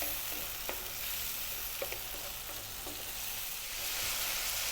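Tomatoes cook down in a pan with a soft, steady sizzle, broken by a few light scrapes and taps as they are stirred; fairly quiet and with no talking.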